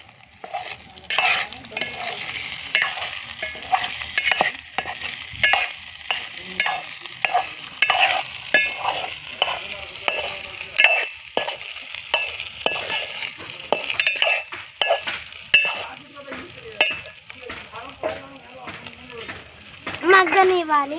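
Food sizzling in a pan while a spoon stirs it in an Indian home kitchen, with continuous frying crackle and repeated scraping stirs, as someone speaks Telugu throughout.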